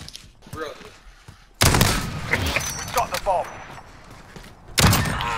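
Gunfire from Call of Duty, with an AX-50 sniper rifle, AMAX and Kilo rifles, erupts in two loud bursts of overlapping shots and booms, with someone talking briefly between them.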